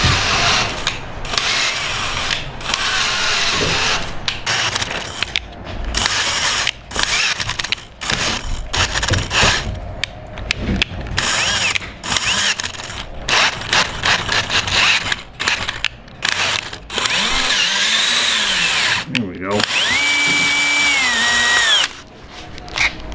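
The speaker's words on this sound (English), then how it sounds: "I think I'm just going to tap it with a drill." Power drill driving a tap to cut threads during a boat pilothouse fitout, a whirring tool running in repeated bursts with stops and restarts, close and loud against workshop noise and a steady background hum.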